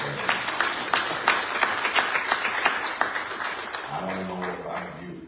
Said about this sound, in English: Let's give the Lord a high clap